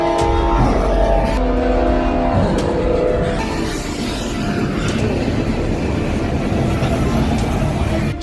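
A speeding train rushes past, a loud rumbling roar with horn-like tonal blasts at the start, changing into broad, steady rushing noise throughout.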